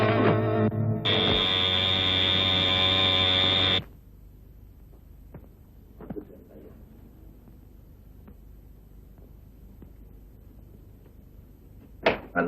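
A doorbell-style electric buzzer sounds in a Tamil film home scene: one steady, loud, droning ring lasting about three seconds, then quiet room ambience with faint knocks and a sharp click near the end.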